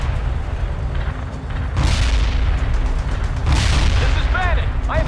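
Deep booming explosions and distant gunfire from the World in Conflict real-time strategy game, rumbling continuously with heavier blasts midway, while someone talks faintly over the battle.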